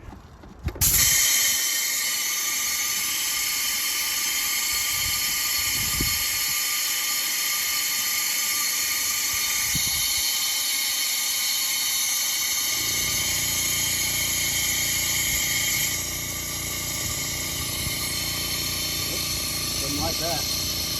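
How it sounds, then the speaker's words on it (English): Compressed air from a hose hisses steadily under the hood of a 2015 Yukon Denali 6.2 in an attempt to suction coolant, with a faint mechanical hum and a few clicks, and someone speaks at times. "hook my air hose up to here and then try and quickly swap this line out with this line, and hopefully it'll suction the coolant into here"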